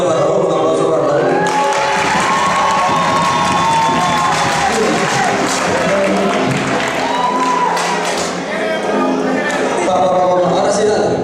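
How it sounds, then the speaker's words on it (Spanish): A youth crowd at a meeting with the Minister of Youth in Nueva Esparta cheers, shouts and claps for Raúl, a loud, boisterous mix of whoops, whistles and applause that rises and stays intense throughout. "una bulla para Raúl, un aplauso para Raúl"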